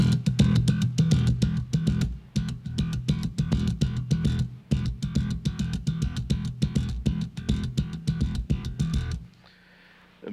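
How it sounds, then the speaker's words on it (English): A bass guitar plays a fast, even run of plucked notes, the thumb striking an open string and a left-hand tap answering on the next string. The notes are close and punchy, then stop abruptly into near silence. "I'll play with my thumb on the open string, and then I'll tap with the left hand and come down on the next string like this."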